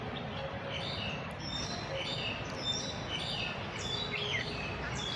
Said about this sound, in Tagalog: Maingay yung mga ibon. May mga ibon dun sa puno.